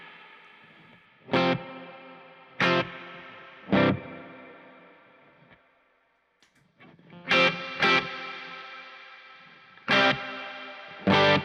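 Guitar run through a Boss RV5 reverb pedal: loud struck chords ring out in a steady pattern, each attack followed by a long washy tail that fades before the next strum, with a brief near-silent gap midway.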